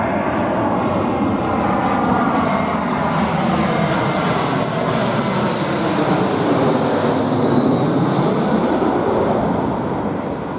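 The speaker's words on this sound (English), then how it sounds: "A plane. There's one coming in now to the airport." A loud, continuous jet engine roar fills the air as an airplane passes low overhead coming in to land at Queenstown airport, New Zealand, steady throughout with no talking.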